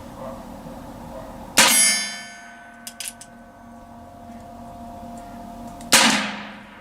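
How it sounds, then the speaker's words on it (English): A .22 bullet strikes an AR-500 steel target at about 50 feet, giving two loud, sharp metallic rings that decay over about a second each. A few faint clicks fall in the quiet stretch between them. "We can really hear that ding on them AR-500 target solution targets."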